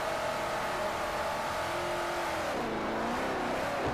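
Drifting car engines in a racing video game, including a Camaro and a Scion FRS, rev hard and hold high, steady tones that rise and fall over a constant roar, loud and close, with no talking.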